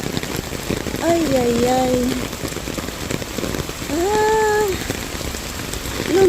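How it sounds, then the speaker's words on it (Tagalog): Heavy rain pours steadily in a dense, hissing wash while a person lets out a couple of short exclamations over it. "Papunta ng trabaho, maulan. Alag, lumakas ang ulan."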